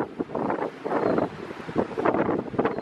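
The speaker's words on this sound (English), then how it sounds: "Yeah, so there's a bit of wind." Strong outdoor wind buffeting a microphone on a fly fishing trip in New Zealand, loud rumbling gusts that rise and fall throughout without a break.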